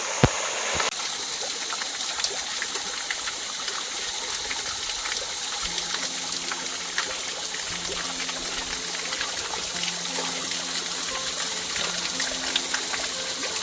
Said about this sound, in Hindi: ऐसे झरनों का पानी पियो आप।